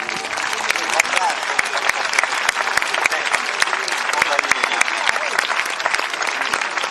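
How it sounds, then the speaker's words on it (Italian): Sustained audience applause at a horse event in Oristano, Sardinia, with crisp individual claps standing out from a dense, even roar of clapping. "Facciamo un po' di applausi pubblico"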